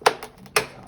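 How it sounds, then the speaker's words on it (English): A spark plug boot on a STIHL BR800 backpack blower snaps into place with a few sharp, close clicks, the last one crisp and distinct. "Put the boot back on. Make sure you hear the click."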